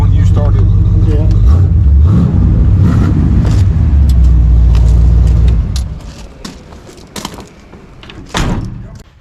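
An old square-body truck engine rumbles loudly and steadily at idle in a shop after a cold start with the choke released, then cuts off after about six seconds, leaving some clatter and voices.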